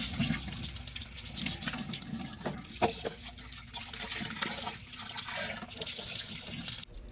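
Water pouring steadily from a tap into a cooking pot, a continuous loud gushing stream that runs the whole time and then eases off at the very end.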